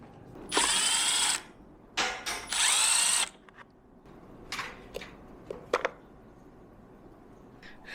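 Small cordless power driver backing out the two screws holding a little Power Wheels motor to its gearbox: two loud whirring bursts near the start, then quieter clicks and short ratcheting whirs, close up with no talk.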